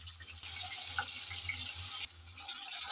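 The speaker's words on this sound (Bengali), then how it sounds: "এভাবে একটার পর একটা আমি মাছগুলো তেলে দিয়ে ভেজে তুলে নেব।" Pieces of catla fish fry in hot oil with a steady, close, soft sizzling hiss that carries on with no talk.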